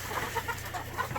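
Chickens in a warm indoor chicken house give a string of soft, repeated clucks over a low steady background hum.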